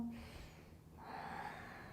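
A slow, deep breath drawn in during an advanced yoga class working toward Hanuman pose. It is a soft, faint, airy inhale lasting about two seconds in a quiet room.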